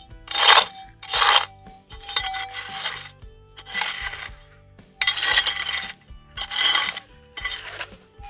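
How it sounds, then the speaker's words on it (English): Scraping dirt aside with a metal tool while metal detecting for gold nuggets, a series of about seven rough rasping scrapes with gritty clinks, close and distinct, no talking. "just scrape some of this dirt out of the way because the gold's not in that"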